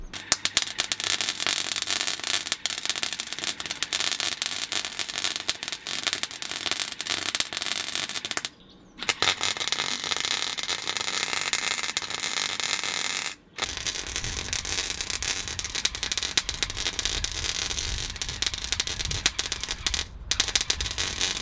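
MIG welding on mild steel gives a steady, loud crackling buzz in long bursts, broken by two brief pauses as the gun stops and restarts.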